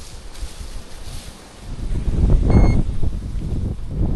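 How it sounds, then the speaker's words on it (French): Wind buffets a microphone during a fishing outing by the water, making gusty low rumbles that swell and ease. A stronger gust arrives midway, with a brief faint tone above it. "C'est le vent."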